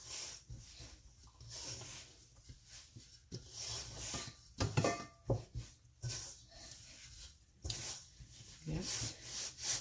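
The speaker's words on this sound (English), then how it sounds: "now I will go in and I'll start to knead" Hands knead sticky spelt bread dough on a surface, giving soft, irregular rubbing and squishing strokes with occasional slaps and pats. The sound is fairly quiet and close, with no talk over it.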